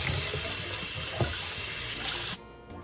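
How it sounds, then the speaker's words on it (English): Cold water runs steadily from a kitchen tap for rinsing, a close, even splashing stream that stops abruptly near the end. "Use some cold tap water"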